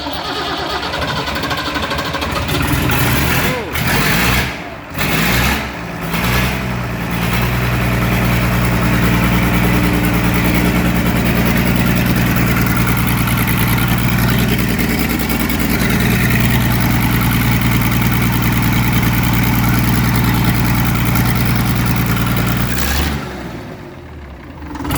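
A Muir Hill tractor engine, freshly rebuilt, cranks with a few sputtering catches and then fires into a loud, steady idle with a deep rumble that runs for about twenty seconds before cutting off.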